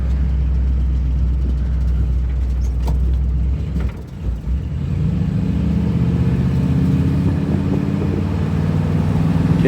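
A 1960 Chevrolet Impala engine pulls hard while driving, a loud low rumble that dips briefly as it shifts, then climbs again with a rising, strengthening drone and no talk over it.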